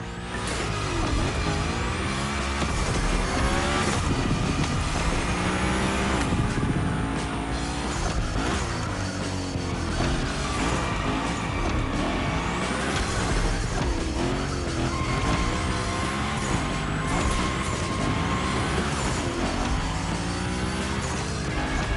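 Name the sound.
Hoonigan car drifting with squealing tires in The Crew Motorfest video game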